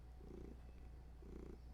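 A house cat purrs softly up close, giving two slow, breathy rumbling cycles in under two seconds with nothing else heard.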